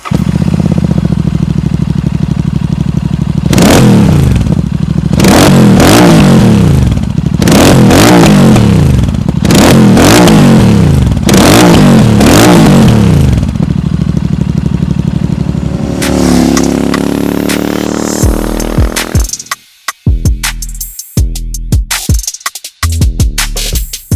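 A Royal Enfield Super Meteor 650 with a GT Cup aftermarket exhaust and Powertronic ECU revs hard several times, throaty and loud, each blip rising and falling, then settles into a rough, popping idle.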